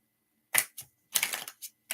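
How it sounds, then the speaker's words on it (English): Tarot cards being shuffled produce quiet, crisp bursts of riffling clicks: a short flutter, a tap, then a longer riffle and a few lighter flicks, heard alone in a quiet room. "Let me shuffle these cards real quick just to refresh them."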